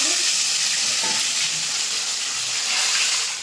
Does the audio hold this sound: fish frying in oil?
yes